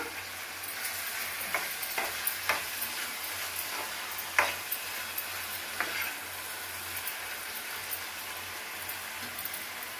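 A pan of frying bottle gourd curry hisses softly while ground green chilli paste is stirred in, with scattered spoon taps and scrapes over a low, steady sizzle close by.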